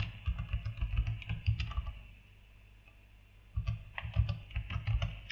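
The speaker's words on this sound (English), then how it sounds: "And we click enter on the keyboard." Someone types quickly on a computer keyboard, with two bursts of close key clicks split by a short pause.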